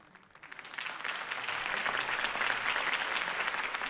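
Crowd applauds a political campaign speech in a Batman video game, clapping that builds from near silence over the first second into a full, sustained roar of many hands at steady loudness.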